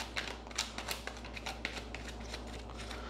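A deck of tarot cards being shuffled close up, a quick run of soft riffling flicks and taps in an irregular rhythm, fairly quiet and heard alone.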